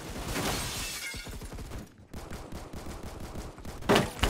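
Rapid bursts of gunfire from a gun in Roblox Phantom Forces crackle in quick succession, a fast rhythmic string of shots with a brief pause partway and a sharper, louder blast near the end.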